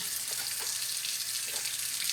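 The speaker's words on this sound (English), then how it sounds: "let me wash my hands real quick" Tap water running steadily into a kitchen sink while hands are washed, a continuous close hiss with faint splashes and no talk.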